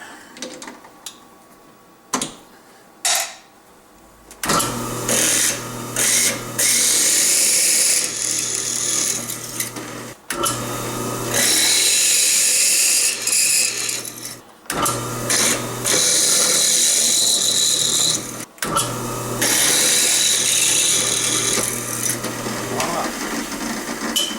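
A power drill with a number 7 bit whirs in long sustained bursts separated by brief pauses while drilling holes for an ER32 die holder, preceded by a few clicks and knocks, loud and close.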